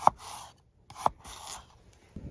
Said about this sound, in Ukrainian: Складніша задача стругання деревини. І тестуємо, як він гарно стругає.